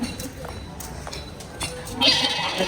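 A goat bleats toward the end amid a small street-side goat market in a residential lane, following quieter ambient noise and faint scattered sounds.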